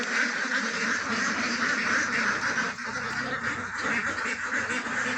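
A flock of ducks at a farm water tank with a climbing slope quacks in a loud, continuous, overlapping chorus close by, with no voices.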